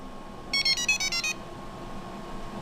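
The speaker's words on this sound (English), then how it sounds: "There will be a beep." An RC rock crawler's remote control gives a quick series of about six short electronic beeps in a tight rhythmic burst, clear and close, over a faint steady background hum.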